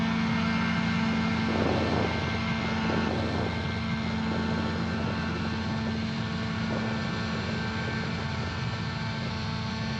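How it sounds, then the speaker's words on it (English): An AirBike light propeller airplane in flight, its steady engine and propeller drone droning continuously and fairly loud throughout, with no voices. "What a crazy airplane."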